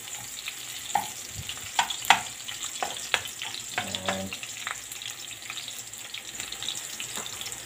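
Onions sauté in a pan with garlic for pancit bato, a light close sizzle with a few knocks and scrapes of stirring early on, then settling into a steady quieter hiss.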